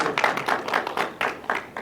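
Meetup audience gives a round of applause, a short burst of scattered hand claps in the room, moderately loud with no speech.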